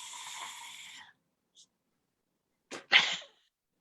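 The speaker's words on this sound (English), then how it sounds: "Would you like to see the family sneeze?" A family sneezing together at once in a room: a short burst of breathy, nasal sneeze noise, then silence, then a sharp combined sneeze outburst near the end.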